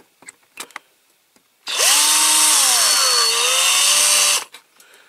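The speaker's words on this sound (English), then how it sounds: "small drill first." A small power drill whines steadily for about three seconds, its pitch dipping slightly as it bites into a metal rivet on a Dinky Toys Bedford TK model, preceded and followed by faint clicks and handling noises.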